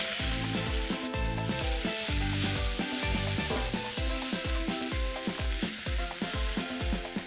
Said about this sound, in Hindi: जैसे ही जीरा क्रैकल हो रहा है, आपको इसमें डालना है प्याज, फाइनली चॉप्ड ऑनियन।